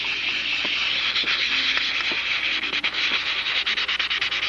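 Steady, continuous scratchy rubbing of fine 320-grit sticky-back sandpaper worked by hand, with rhythmic back-and-forth strokes growing more distinct toward the end.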